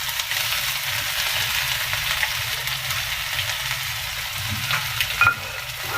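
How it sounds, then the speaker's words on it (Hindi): Finely chopped onions fry in a kadai for kadai paneer, giving a loud, continuous close sizzle with light stirring scrapes and a brief clatter near the end, with no voices. "ये 2 से 3 प्याज है, इसको हमने बारीक काट ली। अब हम इसको डाल देंगे।"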